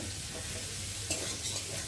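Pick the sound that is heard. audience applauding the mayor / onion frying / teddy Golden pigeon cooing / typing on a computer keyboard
onion frying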